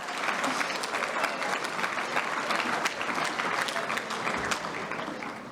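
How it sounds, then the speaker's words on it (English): Sustained applause from a crowd, dense clapping held at an even level throughout, with no voices standing out. "So give all of yourselves a huge round of applause."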